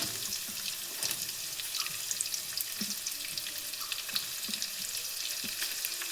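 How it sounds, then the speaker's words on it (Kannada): Onions fry in oil in a pan while snake gourd stir-fry is prepared, giving a steady low sizzle with scattered crackles and stirring clicks, with no talking. "ಎಣ್ಣೆಯಲ್ಲಿ ಚೆನ್ನಾಗಿ ಫ್ರೈ ಆಗಲಿ. ಸೊ ಇವಾಗ ಇದಕ್ಕೆ ಈರುಳ್ಳಿ ಹಾಕ್ತಿದ್ದೀನಿ"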